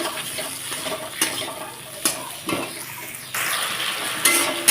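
Chopped tomato hits hot spice masala in a pan and frying hisses up, with scraping stirs and a few sharp clatters of the spoon. The sound is close and moderately loud, and there is no talk.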